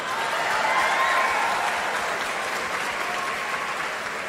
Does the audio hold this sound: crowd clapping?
yes